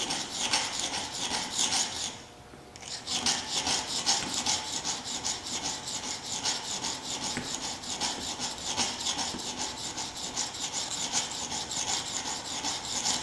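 An intaglio carving tool is sharpened on a stone in continuous, rhythmic rasping strokes, close and steady, with one brief pause near the start and no voices.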